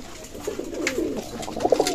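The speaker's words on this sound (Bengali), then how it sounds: "অসাধারণ রানিং পেয়ার কবুতর" Teddy running-pair pigeons at a loft in Daulatpur, Khulna give three short rolling coos in quick succession, growing slightly louder toward the end against a low background hum.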